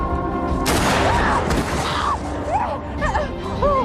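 A sudden loud gunshot bursts out in a tense Black Mirror film scene, ringing over a dense, noisy soundtrack with warbling tones afterward.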